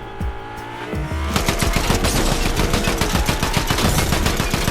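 Rapid automatic gunfire in the Fortnite video game, dense continuous bursts of shots over a vehicle engine drone, loud and close with no talk.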